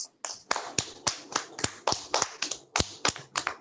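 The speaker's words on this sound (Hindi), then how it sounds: "जोरदार तालियां बजाइए।" A small group of children claps at a school recital, giving a run of distinct, fairly close hand claps in an uneven rhythm that lasts a few seconds.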